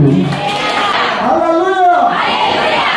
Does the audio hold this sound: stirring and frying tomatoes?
no